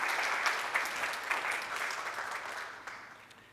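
An audience applauds at a book presentation for an autobiography of Belgrano, a steady wash of clapping that gradually fades over a few seconds, with faint voices underneath.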